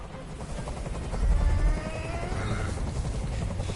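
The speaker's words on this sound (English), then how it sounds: "Tell that helicopter to get out of here." A helicopter thrums with a constant low rotor rumble that swells for a moment and then holds steady, with a voice talking faintly over it.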